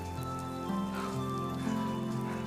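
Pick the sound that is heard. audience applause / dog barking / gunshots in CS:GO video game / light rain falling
light rain falling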